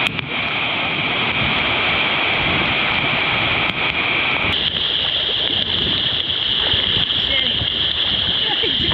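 A small river crossed on foot during a monsoon jungle trek near Malshej, with the water about waist-deep. It makes a steady, loud rush and splash of flowing water that runs the whole time, with faint voices mixed in.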